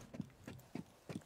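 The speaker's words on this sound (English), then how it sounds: "Loading new mag." Magazine reload in the tactical shooter Rainbow Six Siege, heard as four quick soft clacks and mechanical knocks, evenly spaced and fairly close.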